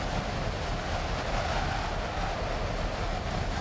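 A train running in the Train Simulator game on a surf-line route, heard from outside as a steady, dense rumbling roar of wheels and engine that holds constant and close with no breaks.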